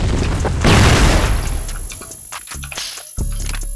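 Grenade blast in the shooter CrossFire: a loud, broad boom bursts in near the start and rolls out over a second or two, followed by scattered game impacts and clatter.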